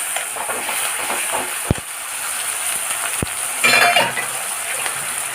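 Chopped onion goes into a pan of frying meat, giving a steady close sizzle with a few sharp clicks of utensils and a brief louder burst of crackling partway through.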